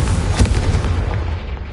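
A loud, close blast from the Confringo fire spell in Hogwarts Legacy, a single heavy boom that rolls and fades over about two seconds.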